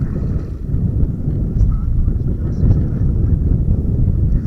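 Steady low wind buffeting on the River Clyde, a west-southwest breeze around 10 mph rumbling continuously against the microphone near a sea kayak, broadband and unbroken with no distinct events.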